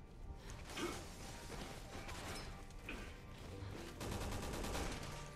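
Dense bursts of rapid gunfire crackle through a noisy Resident Evil 6 soundscape, with a heavier volley near the end; no one speaks.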